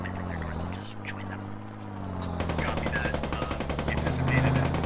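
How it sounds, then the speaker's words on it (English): Squad video game firefight with gunfire at medium range: a steady engine-like drone gives way to rapid, regular bursts of shots that grow denser and louder over the second half, with voices underneath. "Lots of fire happening though, and it looks like we have a bit of a medium range firefight"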